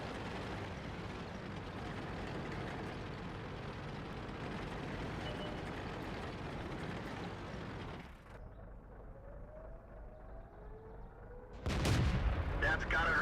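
A World of Tanks match in a Cromwell tank on Murovanka: steady engine rumble and battle din give way to a quieter stretch, then a sudden loud tank cannon blast with a sharp crack near the end.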